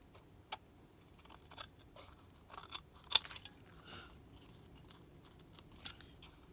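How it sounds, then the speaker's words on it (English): Scissors trim the edges of a paper card in a quiet room, giving several short, crisp snips spaced apart with faint rustling between them. "and then we just got to trim these edges off"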